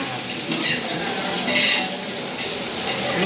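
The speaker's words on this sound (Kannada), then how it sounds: "ಫ್ರೈ ಆಗ್ತಾ ಇದೆ" Peanuts frying in a pan, a steady close sizzle with scraping and stirring clatter throughout, brief and fairly loud.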